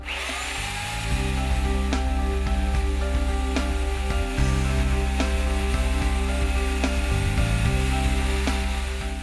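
Steady, loud drone of a power sander running continuously, with a harmonic motor hum and faint scraping against wood.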